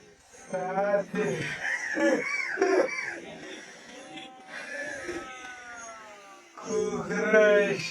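A person on a hill trail at Champadevi near Kathmandu imitates a chicken, voicing a few drawn-out, wavering crowing and clucking calls, with pauses between them.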